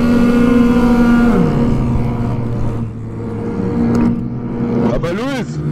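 A moped engine with its exhaust removed revs loudly and raggedly up close, the pitch sliding down then climbing again, while people talk and shout over it.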